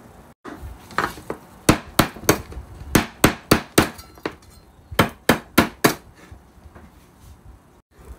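Piloncillo, a hard cone of unrefined sugar, is hacked into small pieces with a run of sharp, loud, close strikes in uneven bursts, with short pauses between groups and no talking.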